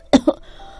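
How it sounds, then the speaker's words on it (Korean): Two quick, harsh coughs in a row, close and clear, followed by a quiet pause, as a narrator voices a sick mother frog in a bedtime story. "엄마 청개구리가 기침을 심하게 했어요"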